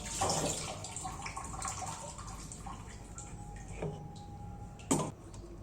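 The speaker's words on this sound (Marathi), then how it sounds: "आता मिरच्या धुवून घेते आहे" Green chillies rinsed under a running kitchen tap, a steady close wash of water with small clicks and splashes and a sharper knock near the end; no one speaks.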